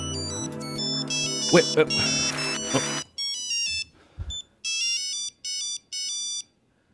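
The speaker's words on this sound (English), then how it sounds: "The phone ringing." A Nokia phone rings at a live video game music event, bright repeating electronic ringtone bursts, first mixed with crowd noise and a brief spoken word, then ringing alone in several clean phrases.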